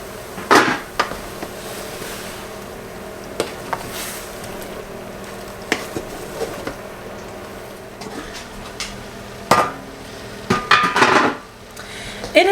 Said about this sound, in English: we're going to go ahead and put the lid on and let this heat up